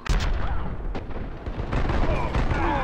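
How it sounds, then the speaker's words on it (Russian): A grenade blast in the Warface shooter rolls out as a heavy boom among continuous loud gunfire and explosions, with a voice calling out over the chaos. "Осторожно, граната!"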